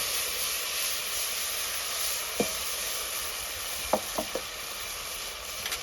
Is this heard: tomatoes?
yes